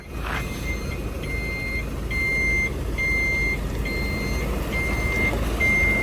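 A reversing truck emitting a steady series of evenly spaced high electronic backup beeps, about six or seven in a row, over a low engine rumble outdoors.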